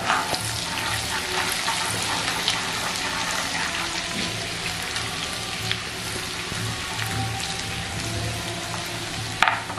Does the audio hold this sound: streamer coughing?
no